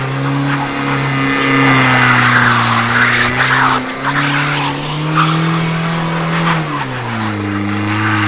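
A Mazda or Toyota roadster does donuts in snow in a parking lot, the engine droning steadily while the tires skid and squeal loudly close up for several seconds, with no talk.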